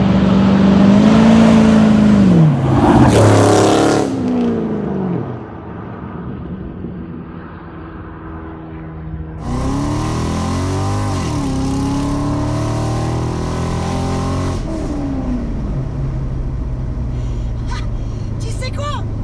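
A Corvette C5 V8 roars through loud revs and hard acceleration, the pitch climbing and dropping with gear changes and exhaust rumble dominating, close by, while people talk in French over the engine noise.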